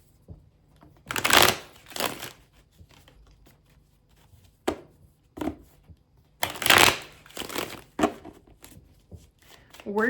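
A deck of tarot cards is shuffled in several bursts of riffling and flicking, crisp and close, separated by quieter pauses and light handling noises, with a voice speaking at times.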